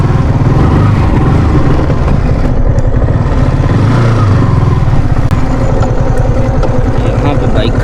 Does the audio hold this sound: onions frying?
no